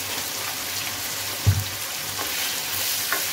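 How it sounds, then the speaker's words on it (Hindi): Chicken for a chicken cream handi fries in a pan with a little vinegar, giving a steady, rain-like sizzle close by, with a brief thump of stirring partway through. "अब इसको मैं चिकन को इसमें अच्छी तरह से भून लूंगी जब तक इसका कलर चेंज हो।"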